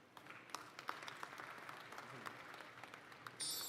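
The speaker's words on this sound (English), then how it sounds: "A big round of applause, my friends" An audience at a university convocation ceremony applauds in a steady, fairly distant wash of clapping lasting several seconds, with a faint crowd murmur beneath it.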